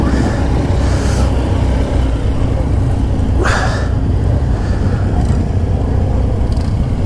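Motorbikes arriving at the Distinguished Gentleman's Ride in the UK: a steady, loud rumble of engines and wind noise, with one bike's revving swell passing close in the middle.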